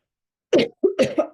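A woman coughs twice, close and fairly quiet: one short cough, a brief pause, then a rougher double cough with a throaty edge, in an otherwise silent room.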